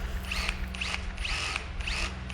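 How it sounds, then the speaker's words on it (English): A power drill bores a truss rod access hole into a guitar headstock, a steady whining grind in repeated short pushes, close and loud with no talk. "especially because I'm using way too much power on my drill"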